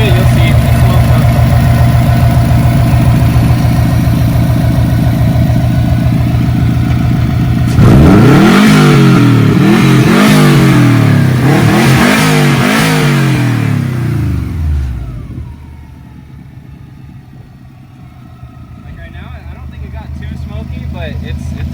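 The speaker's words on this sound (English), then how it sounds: "I'm going to rev it a little bit, you'll see." A Subaru STI with a new turbo and a smoking problem idles loudly, then revs several times in rising and falling sweeps before dropping back to a lower idle, close by, with a person talking.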